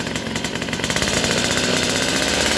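Motorcycle engine revving loudly and steadily after adjusting a replacement aftermarket side oil pump, with a dense, buzzy mechanical drone that builds slightly and holds for the whole moment.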